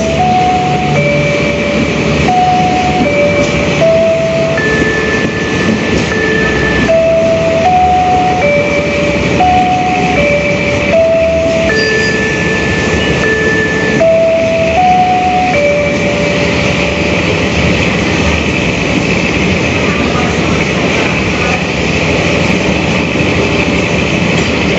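Trains at Kertosono station, including the Sri Tanjung and Jayakarta, give a steady, loud rail rumble throughout, with a melodic chime tune repeating over it.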